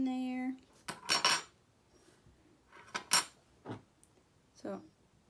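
A spoon clinks and scrapes against a mug while mixing cake batter with sprinkles, a few separate bursts of clatter spaced out over a few seconds, close and fairly quiet.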